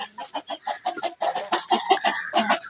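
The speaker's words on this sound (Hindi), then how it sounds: "तेरे से एक मुर्गा नहीं पकड़ा जा रहा" A chicken clucks in quick, repeated bursts at close range, a busy series of short calls filling the whole moment.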